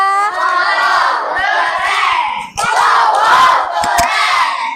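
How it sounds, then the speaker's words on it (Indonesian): A primary-school classroom bursts into loud, lively cheering and shouting from a crowd of children, with a few scattered claps. It rises in two big waves with a short dip between them. "beri aplaus untuk kelompok Amerika"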